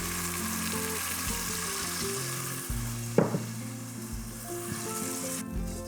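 Tomato-based Napolitana sauce and about a cup of stock stirred together in a pan, giving a steady close sizzle with scraping utensil movements and one sharper clack midway.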